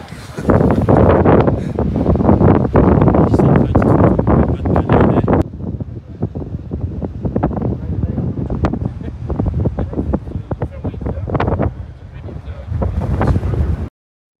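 Strong wind buffets the microphone on an Irish golf course, heavy gusty rumbling that nearly fills the recording, easing briefly midway before surging again, with faint voices buried underneath.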